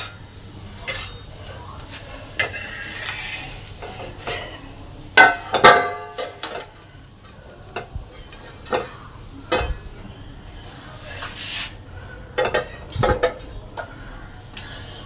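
Papaya patishapta pitha frying in oil or ghee, with soft sizzling under repeated near stirring, scraping and clinks of a utensil against the pan.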